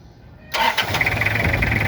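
A car's 2L engine cranks and catches after a moment of quiet, firing with a sharp burst and then settling into a steady, close idle.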